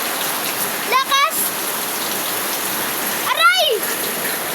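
Heavy rain falls in a constant dense hiss, with two short bursts of a voice or chirping calls rising above the steady downpour.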